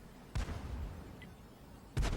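Artillery fire from an S-51 self-propelled gun in World of Tanks: two short booming shots about a second and a half apart, each a loud burst over a quiet low background.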